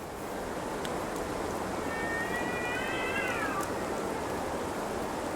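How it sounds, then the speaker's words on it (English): A single drawn-out cat meow rises and wavers for about two seconds over a steady wash of ambient noise in the medieval world of Kingdom Come Deliverance 2, fairly faint and distant. "The freaking cats, man."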